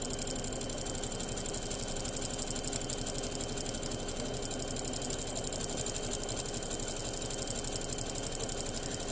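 A sewing machine stitches a buttonhole on a small hand-sanitiser pouch, giving a steady, fast mechanical whir that runs evenly and close up, with no voices.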